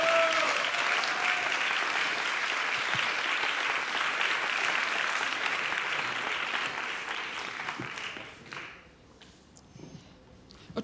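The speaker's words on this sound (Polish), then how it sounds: "Brawa dla niego!" An awards gala crowd at the EFEKT 2021 final ceremony in Stary Maneż, Gdańsk, applauds in a steady, full wash that tapers off after about eight seconds into quieter room noise.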